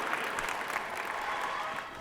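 A crowd at a motivational talk claps steadily for about two seconds, a dense, even wash of applause with a faint voice beneath.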